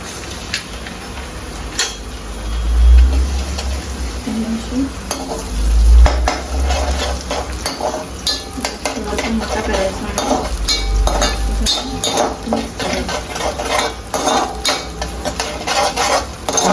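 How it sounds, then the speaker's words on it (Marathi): Two beaten eggs poured into a hot pan and frying, a loud continuous sizzle close by with frequent spatula scrapes and clatter against the pan, and brief faint voices. "अशी अंडी टाकायची याच्यात असं हे दोन अंडी मिक्स केलेली आहेत"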